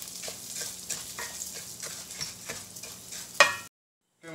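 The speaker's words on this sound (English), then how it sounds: "This is 2 cups of medium grain rice. We're gonna let it" Two cups of medium grain rice frying in smoking oil, a crackling sizzle with stirring scrapes, ending in a short silence.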